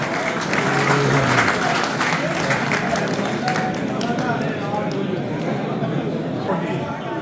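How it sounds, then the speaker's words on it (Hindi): Applause at a prize distribution ceremony in Bradford, a steady mid-level wash of clapping from an audience that fades slightly toward the end, with faint chatter underneath. "बहुत ताली मारते हैं"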